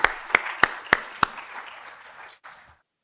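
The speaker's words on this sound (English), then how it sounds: "So let's give them a round of applause." During an art talk in a museum lecture setting, five sharp, evenly spaced claps ring out with a reverberant room tail. A single softer clap follows before the sound fades to silence.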